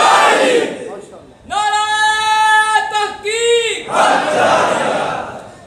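At a religious gathering, a crowd loudly chants the Nara-e-Haidri slogan, a sustained unison shout answering a leader's call, set between bursts of roaring, cheering voices.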